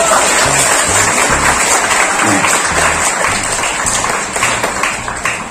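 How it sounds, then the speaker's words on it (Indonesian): Audience applause at a university faculty of engineering orientation for new students, loud and sustained with dense steady clapping from a large crowd, tapering slightly near the end. "Tepuk tangan dulu lah, masa."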